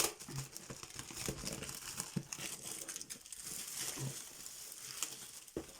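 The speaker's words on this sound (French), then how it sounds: "Attendez, je déchire ça." Packing tape and wrapping being torn and crumpled open on a parcel holding a cross-stitch canvas, a close run of crinkling, ripping and rustling with a few sharper tears, heard alone.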